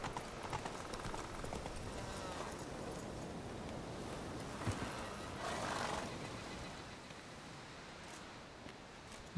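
In The Witcher 3, Roach the horse gallops with rapid muffled hoofbeats under steady game ambience and lets out a neigh, all fairly faint and blended with wind-like background noise.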